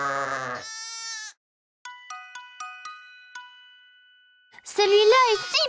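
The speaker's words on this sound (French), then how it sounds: "Sais-tu quel bruit fait un mouton" A cartoon sheep in a barn gives a short bleat, followed by a series of bright chiming dings, then a louder, wavering bleat near the end, with a voice speaking before it.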